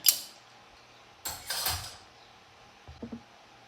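A metal barrel Marcel curling iron is placed into a heating stove, giving a sharp metallic clink, then a scraping clatter, and later a few soft taps, all quiet and close with no talking.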